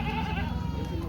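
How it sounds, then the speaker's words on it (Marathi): A local country goat at the weekly goat market in Jawala, Hingoli district, gives a steady, drawn-out bleat lasting about a second, close and fairly loud, with market murmur faintly underneath. "यांच्यापाशी पण गावरान शेळी आहे"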